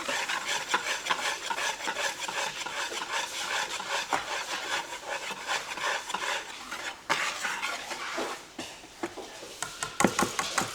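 Flour is sifted through a sieve for biscuits in a kitchen, giving a continuous close, scratchy rubbing and shaking with steady rhythmic pulses and a few sharper taps near the end.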